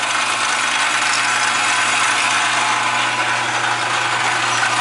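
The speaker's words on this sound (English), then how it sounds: "because I got my cutter so far out, I get a little bit of squealing, I get a little bit of chatter" A cutter machining aluminum wheels, set far out, grinds steadily with a harsh, high-pitched squeal and rattling chatter over a constant motor drone.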